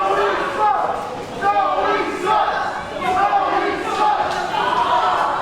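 Wrestling crowd in Deer Park reacting loudly to Zoe Sky after she ran in, hit the referee and caused a thrown-out match; a continuous roar of jeers and shouting voices with swelling surges, no single voice standing out.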